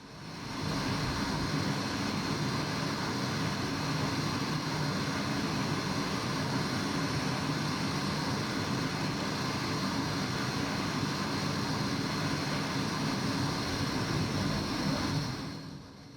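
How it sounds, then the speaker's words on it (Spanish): An airliner, Dana Air Flight 992, departing Abuja and climbing toward cruise altitude, heard as a steady, continuous engine roar that swells in at the start and holds evenly, with no voices. "El vuelo despega de la ciudad de Abuya, e inicia su ascenso hacia su altitud de crucero"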